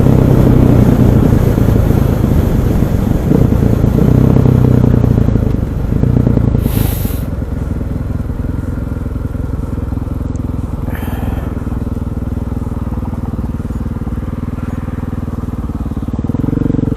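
KTM 500EXC supermoto motorcycle ridden in cold rain, its engine droning loud and close with rising and easing revs under heavy wind rush, and a brief crackle partway through.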